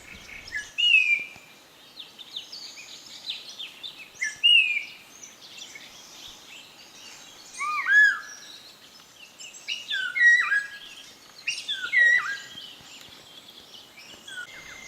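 Several birds call and chirp from a flowering tree in Arunachal Pradesh, with short repeated whistled and slurred notes spread across the clip, moderately close and clear, no voices.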